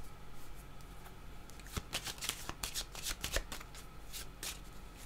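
Cards shuffled for a card reading, a close, quiet series of crisp riffling bursts and soft flicks, irregular and clustered, with no talking.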